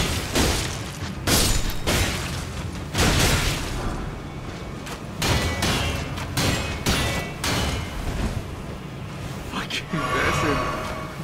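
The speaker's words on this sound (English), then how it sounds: "these bastards who fucking have a motherfucking machine gun that's shooting at us" Enemy machine gun fire in Elden Ring comes as repeated loud, heavy bursts of impacts, forming several clusters across the stretch, mixed with thuds and a person talking throughout.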